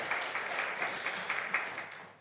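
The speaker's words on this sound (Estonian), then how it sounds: "Aitäh ja aplaus." Steady audience applause at a media conference, many hands clapping evenly at moderate volume and fading toward the end, heard alone without talk.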